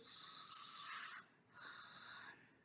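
A voice imitating snoring: two long, airy, rasping breaths, quiet and close, separated by a brief pause.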